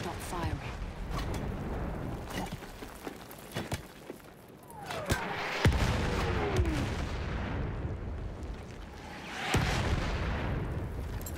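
Battlefield 1 enemy artillery barrage: heavy, irregular booms and sharp gunshot cracks hit near and far through a noisy battlefield din, with a louder burst of blasts midway and another late on. Voices talk over the action.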